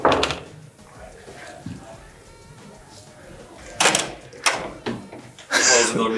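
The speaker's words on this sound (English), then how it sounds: "Close the door behind you." A door shuts in a room, with a few sharp knocks and bangs standing out over scattered background sounds, the loudest thud near the end.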